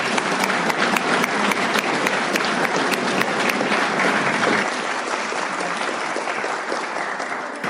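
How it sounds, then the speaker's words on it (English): Audience applause at an Alcoholics Anonymous meeting welcoming first-time attendees, a loud burst of crowd clapping with sharp individual claps standing out, tapering gradually toward the end. "let's give a round of applause for that"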